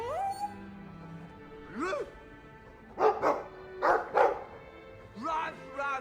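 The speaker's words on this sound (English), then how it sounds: "I like the doggy." Dog in the video game Dragon Age 2 gives a series of barks, yips and whimpering howls, spaced in short clusters and fairly loud and close, with rising whiny cries between the sharper barks.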